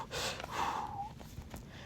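A woman pants for breath after running up a flight of stairs, a few quick, close gasping breaths with one drawn-out sighing exhale, heard alone without talk.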